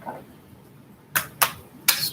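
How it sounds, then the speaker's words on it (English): Quiet room tone, then three quick crisp riffle bursts of tarot cards being shuffled, close and sharp, with short pauses between. "Let's get one more shuffle."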